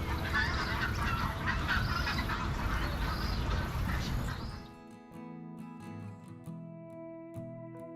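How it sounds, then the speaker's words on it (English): A flock of water birds on a small island in Northern New South Wales keeps up a dense chorus of honking and quacking for about half the time. Music then replaces it. "there's another angle for all these birds in this little island"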